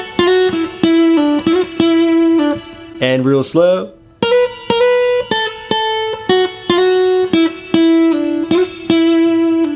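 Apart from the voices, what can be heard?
simple descending minor pentatonic blues lick on electric guitar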